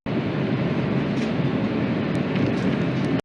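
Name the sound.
train at Madrid Atocha station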